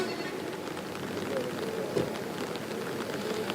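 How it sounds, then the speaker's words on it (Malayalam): Heavy monsoon rain pours steadily in Kannur during flooding, a dense, continuous hiss of drops on surfaces without pause from start to end. "അതിശക്തമായ മഴയാണ്."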